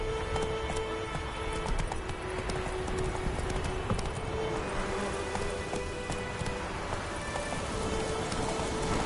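Horse hooves gallop in a PS4 video game with a steady, rapid clip-clop over a continuous wash of rain, holding close and even for the whole stretch with no talking.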